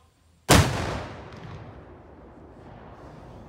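A high explosive charge detonates against a plywood target at an engineer platoon field exercise: one sudden loud blast after a short silence, its boom rumbling and slowly fading over several seconds.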